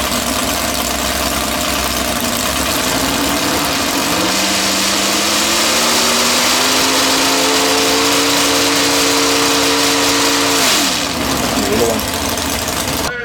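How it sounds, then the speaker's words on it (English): A racing power boat engine at the Upper Hawkesbury races near Windsor idles roughly, then revs up and holds a high, steady drone for several seconds before dropping back, loud and close with background crowd noise. "I was waiting for him to give this a bit of a rev."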